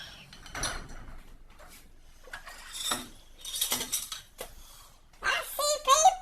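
Dirty dishes and cutlery are loaded into a home dishwasher, with scattered clattering clinks of plates and silverware, rack slides and knocks in uneven bursts, close and fairly loud, while someone speaks briefly in between.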